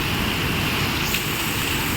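Heavy rain pours down during a storm at a home in India, a dense, loud, unbroken hiss of falling water with no voices.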